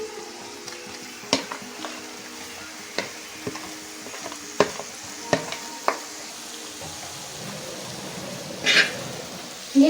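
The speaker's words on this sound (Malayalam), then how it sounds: "ഇനി എല്ലാം കൂടെ ഒന്ന് ഇളക്കിയെടുക്കണം." Masala-coated clams frying with onion and tomato in a pan, stirred with a spoon that gives intermittent clicks and scrapes over a low, steady sizzle, close up and without speech.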